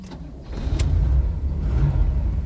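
An Oldsmobile Indy pace car engine rumbles loudly and steadily close by as it pulls away, with a deep low growl that holds through the whole stretch.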